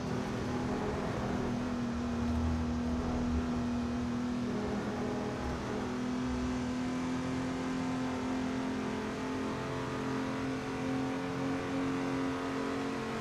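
A BMW race car engine roars steadily in a virtual racing game, holding a sustained drone with slight pitch shifts through a long stretch of track, loud and continuous with no talking.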